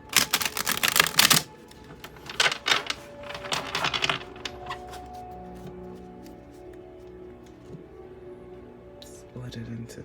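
Tarot cards being shuffled by hand in several quick riffling bursts early on, then quieter handling with faint background hum and a brief clack near the end.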